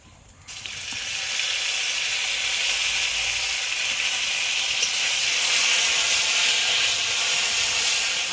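Ginger-cumin paste added to hot oil with a five-spice tempering for a mixed vegetable dal, bursting into a loud, close, steady sizzle and hiss that starts abruptly and holds for several seconds without talk.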